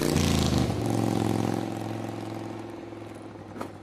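Motorcycle engine in the video game Escape From Tarkov, a loud close rumble that slowly fades as it moves away, with a brief clatter near the end.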